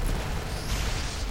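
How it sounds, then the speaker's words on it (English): Plasma explosions in the video game Mass Effect rumble as a dense, loud, low roar of booms and bursts, sustained without pause and with no voices over it. "Explosions. Plasma, it looks like."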